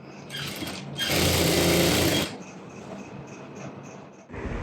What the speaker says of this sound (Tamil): எங்கே ஸ்டார்ட் பண்ணமோ அது வரைக்கும் நம்ம ஸ்டிச் பண்ணி எண்ட் பண்ணிக்கணும்